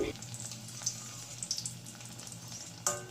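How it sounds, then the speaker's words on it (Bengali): Double-coated snacks shallow-fry in a pan over medium-low heat with a little oil sprinkled on top, giving a steady close sizzle with a few sharp pops and crackles while a voice talks faintly underneath. "দিয়ে খুব তো ডুবো তোলে নয় তাই অল্প অল্প উপরে একটু তেল ছিটিয়ে দিয়ে তারপরে এভাবে আমি ভেজে নেব"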